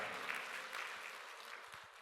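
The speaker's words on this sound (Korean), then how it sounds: "박수." A church congregation applauding during a sermon, a steady wash of many hands clapping at a moderate, slightly distant level, fading a little toward the end.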